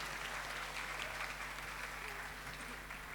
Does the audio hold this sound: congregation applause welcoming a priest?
yes